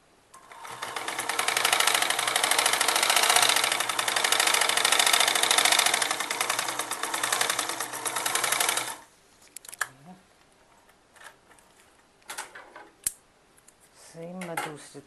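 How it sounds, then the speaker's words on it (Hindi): A sewing machine stitches kurti fabric in a steady, loud, close whir for about nine seconds, then stops, followed by scattered handling clicks and a few brief sounds of speech. "यहाँ पे ऐसे सिलाई लगा के यहाँ से भी इसको ऐसे"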